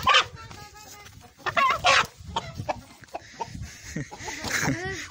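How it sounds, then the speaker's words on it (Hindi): Chickens cluck and squawk close by in short irregular bursts, with a rooster's throaty clucking among them in a busy farmyard. "और ये देखें एक मुर्गा ये रहा।"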